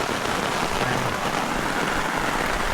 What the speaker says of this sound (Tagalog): Naulan. Ulan na.